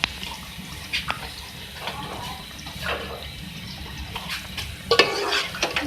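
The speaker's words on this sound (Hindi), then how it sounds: "अब मैं इसको मिक्स कर लूँगी।" Chicken with chopped coriander being stirred in a pan, spoon scraping and clinking against the metal in irregular strokes, with a few louder knocks near the end, no talking.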